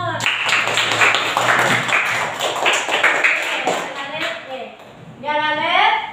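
Children clap their hands in rhythmic patterns in a classroom, rapid patters of claps mixed with children's voices and an adult talking, with a burst of bright sing-song chanting near the end.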